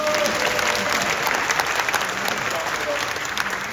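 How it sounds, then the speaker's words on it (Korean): Steady, dense audience applause at a church closing worship service, welcoming the seminary president to the pulpit, with sustained clapping from a large congregation throughout. "우리 큰 박수로 환영하겠습니다."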